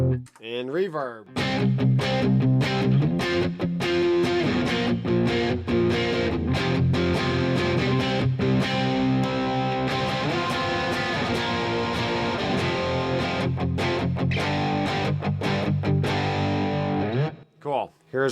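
Distorted electric guitar through a Headrush amp with reverb added, a loud sustained run of chords and riffs lasting over fifteen seconds, with washy tails between hits before cutting off near the end.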